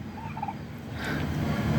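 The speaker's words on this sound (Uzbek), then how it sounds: "Mana endi bular hozir 90 kunlik induk jo'jalari." Ninety-day-old Bronze-708 turkey poults gobbling in their pen, a cluster of warbling gobbles from a few birds fairly close over a constant farmyard murmur.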